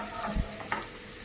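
Chopped garlic frying in ghee for ghee rice, a close, steady sizzle with two soft stirring knocks in quick succession, brief and without voices.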